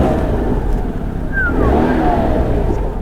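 Renault Mégane 3 RS gendarmerie car with its engine running and revving, a steady loud rumble with a brief rising whine, heard close by with no talk over it.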